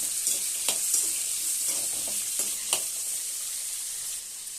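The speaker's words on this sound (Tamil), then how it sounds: "இப்போ தக்காளி காய போடுவேன் போட்டு எண்ணெயிலே கொஞ்ச நேரம் ஒரு அஞ்சு நிமிஷம் வேக வைக்கிறேன்" Tomatoes fry in hot oil with carrot and beans for a Tamil tomato kuzhambu, giving a steady, close hiss of sizzling broken by a few light clinks from stirring, with no speech.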